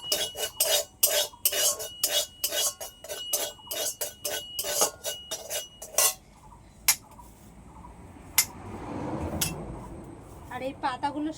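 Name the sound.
salt being lightly dry-roasted and stirred in a pan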